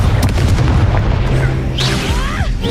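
Confringo fire spell explosions in the video game Hogwarts Legacy, loud booming blasts layered with rumbling bursts and whooshing magic effects.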